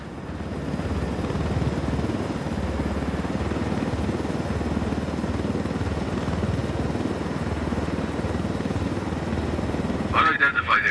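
Helicopter in Ghost Recon Wildlands flying low through a canyon: a loud, steady rotor and engine roar fills the whole stretch, with voices heard alongside it and a brief sharper burst near the end.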